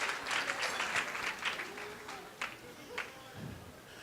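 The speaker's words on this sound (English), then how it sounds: "Give it a clap for him." A youth summit audience applauding a keynote, a moderate burst of clapping that fades out over a few seconds, with some voices mixed in.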